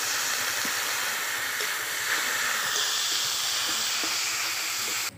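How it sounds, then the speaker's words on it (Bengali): Spice paste with turmeric, salt and a splash of water sizzles steadily in a pan while being sautéed for a fish and eggplant curry, a constant close hiss with faint stirring clicks and no talk. "অল্প একটু জল দিয়ে মশলাটা ভালো করে কষিয়ে নেব।"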